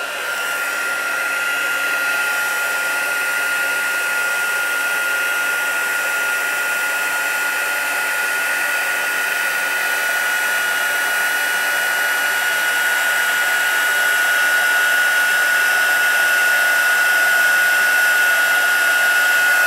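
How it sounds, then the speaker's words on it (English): Embossing heat gun used for stamping crafts, blowing a constant loud whooshing whir held close for about twenty seconds with no pauses, its tone steady throughout. "my heat tool. This is going to create a little bit of noise, but it doesn't take long."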